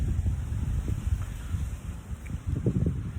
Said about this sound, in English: Like a very loud wind here